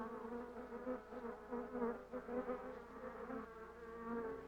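Stingless bees buzz deep inside their wax nest of globular cells and food pots, a continuous droning hum with wavering pitch, close and steady throughout.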